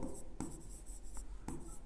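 Marker or chalk scraping across a board while a physics formula is written, a few short strokes with sharp starts, close and moderately loud, no talking.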